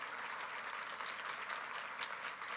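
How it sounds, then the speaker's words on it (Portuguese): Applause from a church congregation for a sister, a doctor on duty, steady dense clapping filling the room at a fairly low level with no voices over it. "Vamos dar uma salva de palmas para essa irmã?"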